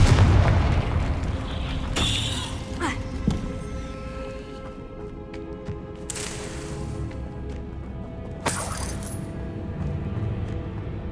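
Confringo spell blasts in Hogwarts Legacy, with several loud booming explosions and sharp bursts spaced a few seconds apart over an ongoing rumbling game soundscape.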